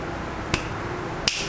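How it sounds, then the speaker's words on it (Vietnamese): Two crisp finger snaps about three-quarters of a second apart, sharp and close, over a faint steady room hum, used as a flourish while swapping keycaps on a mechanical keyboard. "sau khi mình búng tay thì toàn bộ cái keycap đã được lắp vào bàn phím"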